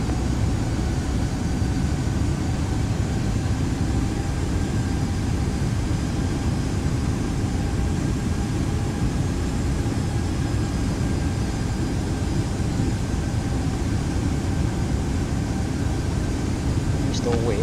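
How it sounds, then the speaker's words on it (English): A FedEx heavy airliner on its takeoff roll from runway 28 left in a flight simulator produces a continuous, even engine roar with a steady hum, loud and unbroken throughout. "FedEx 2012 Heavy, runway 28 left, clear for takeoff."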